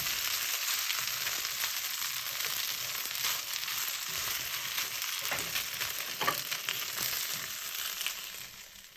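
Fried rice with lettuce being stir-fried in a pan, a steady bright sizzle with intermittent scraping and tossing of the spatula, continuous and fairly close, with no talking.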